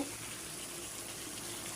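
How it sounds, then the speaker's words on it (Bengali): Hot water pours steadily into a beef and potato curry in the pot, a continuous close gushing rush with no voices. "এখন তরকারির মধ্যে গরম পানিটা দিয়ে দেবো"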